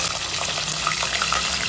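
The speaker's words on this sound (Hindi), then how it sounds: "तेल गरम हो गया, बाद प्याज ये गोश्त डाल दीजिए।" Mutton pieces with onions dropped into hot oil, giving a steady, moderate sizzle and crackle of frying with faint bubbling.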